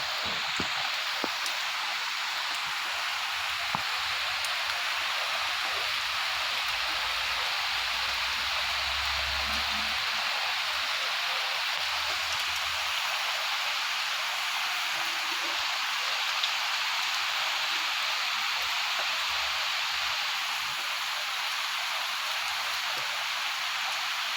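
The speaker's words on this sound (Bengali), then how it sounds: "বৃষ্টি এখন বাড়তেছে আস্তে আস্তে।" Heavy rain pours steadily over a flooded street in Sylhet, a dense, even hiss of water that holds at a constant loudness throughout, with a faint low rumble from somewhere nearby.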